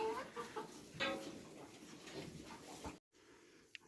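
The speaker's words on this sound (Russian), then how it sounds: "куры хорошо ковыряются." Chickens peck and scratch around a village farmyard in Kazakhstan on a winter day, giving soft, faint, scattered clucks with a quiet rustle underneath, then a brief near-silence and a sharp sound at the end.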